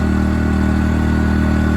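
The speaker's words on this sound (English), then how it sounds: "That's what I like about these inverter generators, guys. They're a lot quieter than other generators." A portable inverter generator runs steadily during a power outage, giving a constant, fairly loud mid-pitched engine hum with a low, even drone and no change across the whole stretch.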